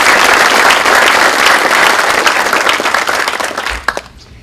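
An audience at a primary election candidate forum at Catawba College applauds to welcome the candidates, a loud, dense burst of clapping that holds steady and then fades away over a few seconds.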